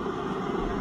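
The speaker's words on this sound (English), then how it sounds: "Blowers on, because it is freezing in here." A diesel blower heater runs steadily in a cold workshop, giving a continuous broadband roar with a low hum that stays even and close throughout, with no voices.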